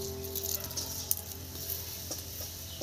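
Chhana (fresh cottage cheese) hitting a hot pan for danadar sandesh, giving a steady close sizzle with light patter and a few soft scraping clicks, no talking.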